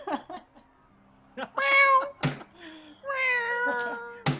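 A cat in the tabletop game Black Void lets out several loud, tonal meows, two long wavering cries among shorter chirps and sharp thumps, all close and clear.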